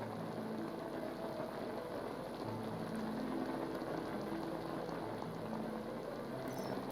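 Wort in a brewing kettle rolls at a boil while being heated toward 100 degrees for the mash out, giving a steady, dense bubbling hiss with a low rumble that stays even throughout.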